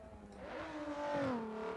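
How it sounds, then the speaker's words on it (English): A raspy V8 race car engine in a video game revs up and climbs in pitch, a buzzy, rising whine with no voices over it. "It's like a very raspy, like, race car sound to it, to this V8"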